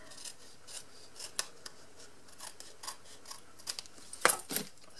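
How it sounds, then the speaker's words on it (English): Snips trim the edge of folded paper for a mini envelope album, producing a string of soft, crisp snipping cuts close by, ending with a couple of sharper, louder snips. "just get my snips and trim that edge off"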